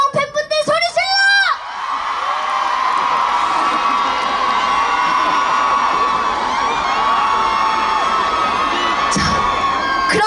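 Large crowd of fans at an outdoor festival concert in Boryeong roars and screams continuously, a dense sustained cheer with whoops, after a loud amplified voice shouts briefly at the start.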